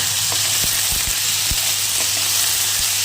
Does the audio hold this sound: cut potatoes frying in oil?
yes